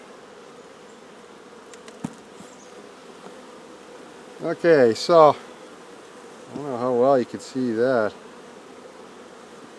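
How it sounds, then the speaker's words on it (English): Honeybees swarm around a nucleus hive in a steady, close buzzing drone, with a few louder passes as bees fly right by; someone speaks briefly near the start. "That's a lot of bees."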